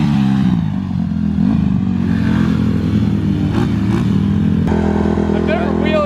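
A Honda CRF150R dirt bike engine buzzes loudly and steadily close by, its pitch wavering as the throttle is worked for a wheelie, with a person talking over it.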